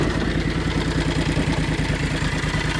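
A John Deere X485 garden tractor with a Kawasaki water-cooled engine idles close by, a steady, even mechanical chugging with a rapid regular pulse and no voices.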